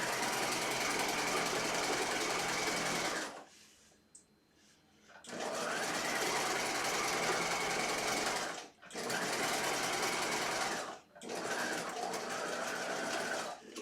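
A sewing machine stitches the first row along a fabric fold in loud, close bursts of fast mechanical whirring, broken by short pauses and one longer gap.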